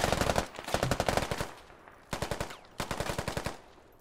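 Bursts of rapid automatic gunfire from a military shooter video game come through loud and close. Three separate volleys are heard, each a tight string of sharp shots, with short pauses between them.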